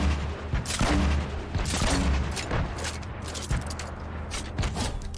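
Rapid bursts of video-game gunfire from a newly acquired gun crackle loudly and continuously, layered with booming impacts and echoing blasts throughout.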